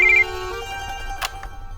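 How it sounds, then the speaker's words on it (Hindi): A brief electronic phone ringtone chirps at the start, then fades into a quiet room with a faint click. "समीर फोन"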